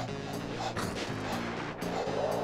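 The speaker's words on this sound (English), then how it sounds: "their barks are like really loud now" Sled dogs in a dog sled racing video game bark and yip loudly and repeatedly over a steady layer of game music, the barks coming in quick clusters throughout.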